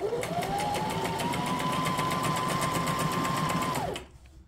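A Brother SM2700 sewing machine stitches in reverse on pattern 26, a fast, even mechanical whir held steadily for about four seconds before cutting off, with no talking.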